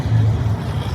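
A Leopard 2 tank driven hard at a tank festival, its engine giving a loud, close, low rumbling roar that holds steady across the brief moment.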